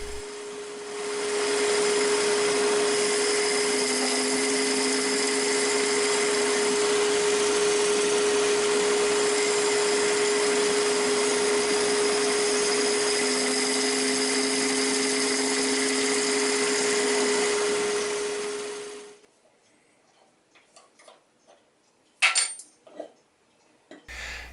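A power tool widens the rim of a mahogany bowl on the lathe, a loud steady whine holding for about eighteen seconds before cutting off, followed by a few faint knocks and scrapes.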